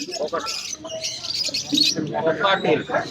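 Cockatiels and other caged birds chirp and tweet steadily at a busy bird market in Garia, Kolkata, their bright calls mixing with nearby voices and crowd chatter.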